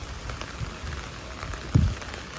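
Rain falls steadily during a typhoon in Tokyo, a soft even hiss of drops on the street with one brief louder splash or thump near the end.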